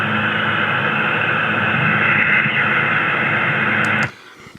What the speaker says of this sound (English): Now here, I'm going to talk about the white noise